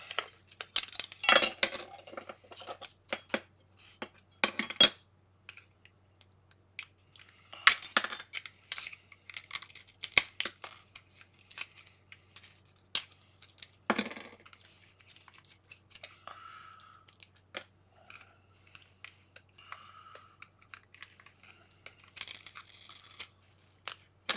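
Someone works at the glass back of a bootleg iPhone 14 Pro Max, with sporadic sharp clicks, scrapes and taps coming in short bursts close by against quiet pauses and no talk.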